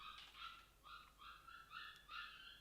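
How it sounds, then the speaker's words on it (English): A dog whimpers faintly in the background with a run of short, high, thin whines repeating every half second or so, quiet and distant, with no talking. "I think that might be the neighbor's dog"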